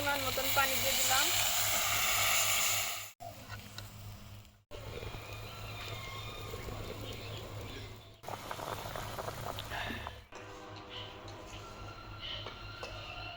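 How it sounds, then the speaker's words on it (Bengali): Pabda fish curry simmering in a pan after water is poured in, with a soft continuous bubbling and hiss broken by a few short pauses, over a low steady hum. "পরিমাণ মতন পানি দিয়ে দিলাম।"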